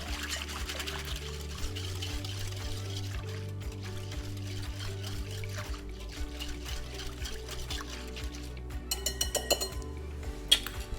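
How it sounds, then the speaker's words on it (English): A whisk stirs lukewarm water in a bowl for bread dough, with light clinks and sloshing over a steady low hum. The metallic taps grow more frequent and louder near the end. "Give that a little whisk, mix that together."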